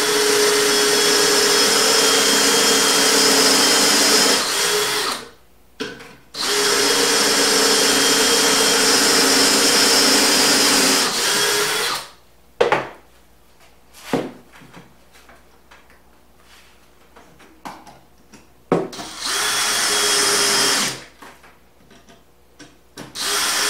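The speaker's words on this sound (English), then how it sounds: "we're going to take our pocket hole jig once again, and we're going to drill two holes" A power drill whirs in long steady bursts, boring pocket holes in wood with a pocket hole jig, stopping and starting, followed by scattered clunks and knocks of wood being handled, then another short drilling run.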